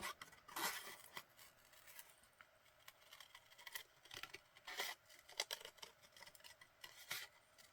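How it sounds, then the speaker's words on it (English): Scissors snipping around a paper jar-lid shape for a junk journal, a string of quiet, crisp cuts and rustles close by, spread irregularly through the span. "cut out the jar lid."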